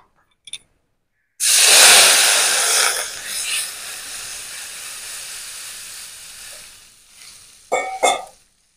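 Water poured into hot oil with fried bay leaf and dried chilli erupts in a sudden loud hiss and sizzle that gradually settles to a steady simmer, with a few clinks at the end.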